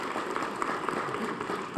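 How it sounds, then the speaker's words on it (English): A crowd at a city community meeting with the mayor about a highrise applauds, producing a faint, steady patter of many hands clapping that is heard from a distance. "I wanted to wait for the clapping"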